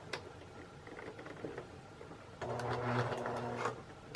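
A sewing machine stitches a purse strap fitted with a D-ring, a quiet ticking at first that turns into a steadier, louder mechanical whir for about a second before stopping.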